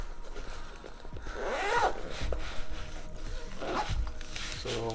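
Zipper opening on the travel bag of a Neewer carbon fiber camera slider: two or three close, scratchy zip strokes with soft rubbing and handling sounds between them.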